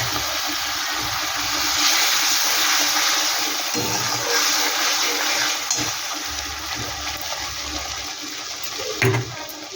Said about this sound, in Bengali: বাটিটা ধুয়ে একটু জল দিয়ে দিচ্ছি।